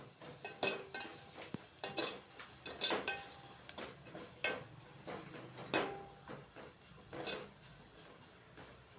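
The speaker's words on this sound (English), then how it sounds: "Now you have to fry until the raw smell goes off." Red and green chilli paste fries quietly in a pan for methi dal, with a soft sizzle under repeated scraping and clinks of a spoon against the pan.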